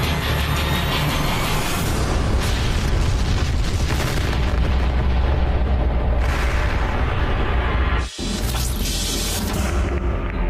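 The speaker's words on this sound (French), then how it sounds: "précisément à l'heure prévue de lancement, une terrible explosion s'est produite" Massive rocket explosion at a launch site after an antimatter propulsion failure, a sustained loud rumbling roar with surging blasts, briefly dropping out for a moment before the thunderous roar resumes.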